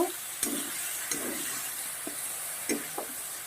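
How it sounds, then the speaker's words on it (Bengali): Washed lentils, fried earlier, stir-fried in a pan for a pumpkin ghonto: a soft steady sizzle with a few scraping stirs and light clicks spread through, fairly quiet and close, with no talking. "আর এই পর্যায়ে দিয়ে দেবো ভেজে রাখা ধুয়ে রাখা ডালটা এবার একটু কষিয়ে নেব"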